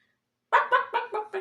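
A red hen clucks in a quick series of five close, clear clucks after a short silence, each one a brief throaty burst, with no talk over it.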